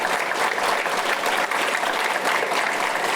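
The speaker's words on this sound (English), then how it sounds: "let's give her a great round of applause" Audience applause at a college distinguished speaker event, with loud, dense, sustained clapping from a large crowd throughout and no speech over it.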